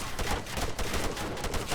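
Rapid bursts of video game gunfire crackling in dense, overlapping volleys, loud and continuous throughout with no talking.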